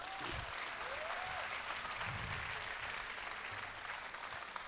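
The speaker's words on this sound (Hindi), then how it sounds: "इसरो के लिए जोरदार तालियां बजाइए।" A crowd at a Hindi comedy poetry gathering applauds the space agency ISRO with dense, sustained clapping. It is fairly distant but continuous and even, with brief voices rising over it.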